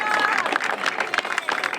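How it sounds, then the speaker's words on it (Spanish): Spectators applaud at the finish of an open-water swimming race at Illa de Rúa, Ribeira, in 2024, a steady crowd clapping with a commentator talking over it. "A ver esos aplausos que os están pidiendo."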